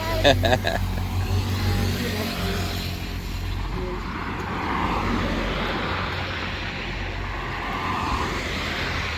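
A car passing close on a small-town street in Iloilo Province, a loud engine rumble swelling and fading while people walking nearby talk.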